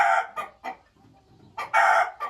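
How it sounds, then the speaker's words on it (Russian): Chicken sounds at a nest inside a coop enclosure: a rooster's loud crowing bursts and clucks come close by, with a few short calls in between and a quiet gap in the middle. "петух привел курицу в гнездо и показывает, куда нужно нестись"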